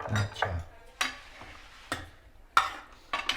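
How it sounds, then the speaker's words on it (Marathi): Chicken being stirred in a pan for a quick dry Maharashtrian chicken sukka, with a few separate scraping strokes of the spoon against the pan, spaced about half a second to a second apart, close and fairly quiet over a faint sizzle. "थोडस हलवून घेते"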